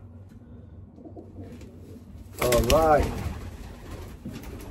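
A racing pigeon coos loudly nearby in a short rolling burst after a 350-mile race, with a voice speaking briefly over quiet outdoor background.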